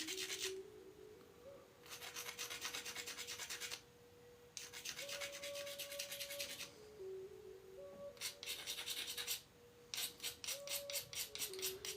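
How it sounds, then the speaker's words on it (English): Grinding the hafting area of a stone tool, rough rasping strokes in bursts with short pauses and a faster rhythmic run of scrapes near the end, close and alone under a faint steady hum. "Grind the hafting area here."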